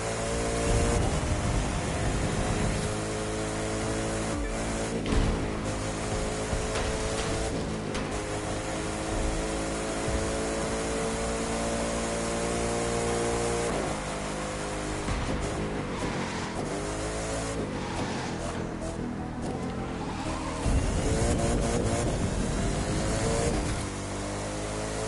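A Koenigsegg Regera electric hypercar in The Crew 2 racing game gives a loud, continuous whine that holds steady without gear shifts for about 25 seconds. A few brief bumps and rushes break the tone, and no one speaks.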